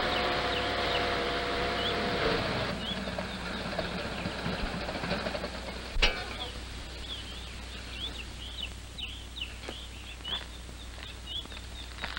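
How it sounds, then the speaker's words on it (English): A low tractor engine rumbles steadily as it drives up a road, with chirping birds over it and a sharp knock near the middle. "A tractor came up the road."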